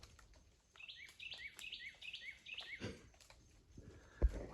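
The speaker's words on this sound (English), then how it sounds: "so I figured I would record those cool bird sounds" Forest birds chirp in a quick repeated series of bright tweets, then a few scattered calls and a soft thump, fairly close with quiet woodland background.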